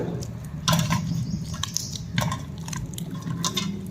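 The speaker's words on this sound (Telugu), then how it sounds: "ఇలాగ మెత్తగా పిసికేస్తాము అరటిపళ్ళు" Ripe bananas being mashed softly by hand for Ugadi pachadi, giving soft wet squelches and small splats in a few clustered bursts, close and fairly quiet, with no talking.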